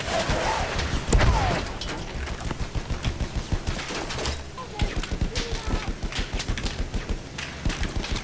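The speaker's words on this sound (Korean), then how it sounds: "누가 쏘는 거야" Gunfire in the World War I shooter Battlefield 1, with sustained rapid machine-gun bursts and scattered shots, loud and close, with a heavy thump near the start and a voice speaking over the fire.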